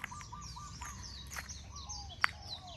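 A white-rumped shama sings nearby, a clear run of rising and falling whistled phrases with sharp chirps, alone against a soft background.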